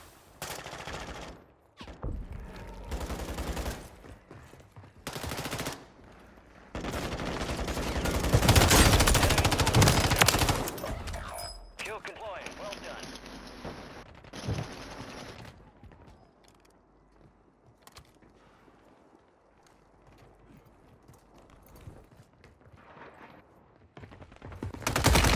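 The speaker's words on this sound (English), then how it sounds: "No, es un tiro. Es un tiro." Gunfire in the video game Call of Duty Warzone, bursts of shots and a loud dense barrage in the middle, then quieter scattered game sounds.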